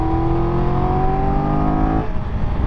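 Triumph Tiger 1200 Rally Explorer motorcycle from 2022, its engine loud and close as it revs and pulls under load with rising harmonics, then eases off abruptly near the end.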